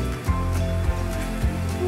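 Somersby Falls on the Central Coast near Sydney pours in a steady, close rushing roar of falling water, with a few low thumps, mostly alone and without talk.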